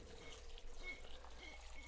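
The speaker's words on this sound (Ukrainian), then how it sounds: "я сполоснула теплою водичкою і виливаю це все до вишень" Warm sugared water poured from a jar onto cherries, a soft steady trickle and dribble of liquid that runs quietly and continuously throughout.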